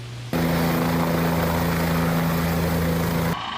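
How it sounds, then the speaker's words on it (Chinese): A helicopter carrying young fish for release drones steadily and loudly, its rotor and engine noise constant and close after a sudden start, cutting off near the end. "送上直升机执行放流任务。"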